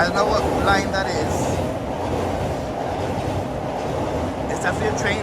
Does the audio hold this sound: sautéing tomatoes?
no